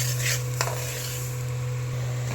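Chicken pickle ingredients sizzle steadily in hot oil, a continuous close frying hiss with a brief stir or clink near the start and a low hum underneath.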